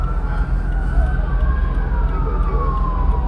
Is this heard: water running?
no